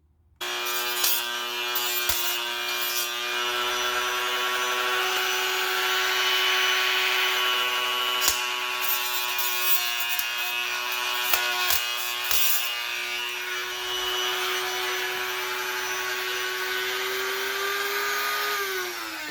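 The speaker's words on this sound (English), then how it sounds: "I went over it with a stone and then I went over it with a little MX wheel." Close, steady high-pitched whine of a small rotary MX wheel deburring a part of a BBC 565 big-block Chevy engine, with sustained grinding and rubbing against the metal and a few brief sharper scrapes, no talk.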